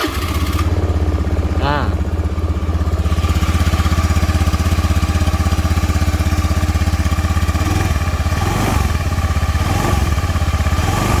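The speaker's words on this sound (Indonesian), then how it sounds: "Saya kelupaan untuk suara mesinnya sendiri itu bisa kita dengarkan langsung." 2014 Honda Beat FI scooter engine running the whole time, a loud, steady close-up putter with a slight throttle change near the start; a voice speaks briefly.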